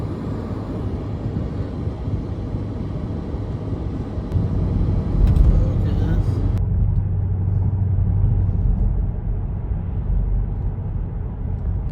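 A Mercedes-Benz engine with radiator problems idles at operating temperature, a steady low rumble heard up close that swells slightly midway and then settles.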